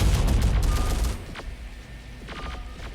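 Burst of gunfire from a military firefight in the Terminator: Dark Fate - Defiance video game, a dense rapid volley for about a second, then a few scattered distant shots and faint tonal game sounds.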